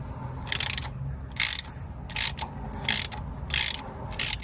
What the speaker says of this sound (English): So with a 10mm spanner, get onto here, and it's actually managed to crack off pretty easily.